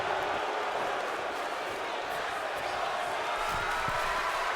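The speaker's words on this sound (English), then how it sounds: "The crowd chanting it." Dense crowd noise from a wrestling event audience, a steady broad roar of massed voices that suggests rhythmic chanting, loud and continuous throughout with no single voice standing out.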